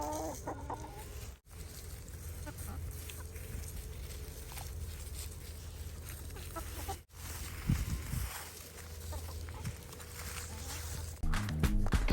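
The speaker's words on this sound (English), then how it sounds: "Chickens are getting amped up, they're ready." A flock of backyard chickens clucks and murmurs continuously nearby on deep-litter compost, with occasional louder squawks and some shuffling and rustling underneath.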